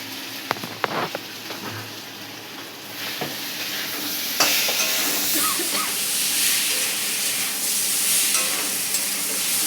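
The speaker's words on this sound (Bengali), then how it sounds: "লঙ্কার গুঁড়ো দেওয়া হচ্ছে যেমন ঝাল খাবে তেমন ভাজা।" Spices with chili powder fry in hot oil and are stirred, a dense hiss of sizzling building louder after a few sharp scrapes and knocks of a spoon, heard close and continuous.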